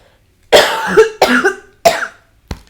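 A few sharp, close coughs in quick succession, three strong bursts followed by a fainter one, with silence around them.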